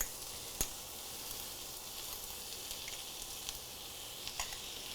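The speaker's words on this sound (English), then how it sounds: "So I wanna sort of cook the sauerkraut down with the onions." Sauerkraut and onions cooking down on a hot griddle, a faint, even sizzle with a few small pops and clicks, no voices.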